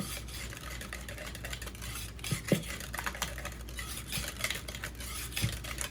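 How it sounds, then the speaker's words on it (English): Ranch dressing being stirred with added heavy cream in a bowl, giving a soft, continuous scraping and swishing with a few light utensil clinks against the bowl, close and steady. "Just mix up a little bit more."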